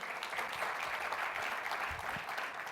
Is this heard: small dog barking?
no